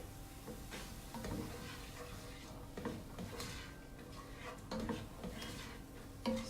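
Onions cooking in a pan for a white meat and bean chili, heard as a soft steady sizzle with occasional clinks and stirring scrapes of utensils, close and fairly quiet, with no speech.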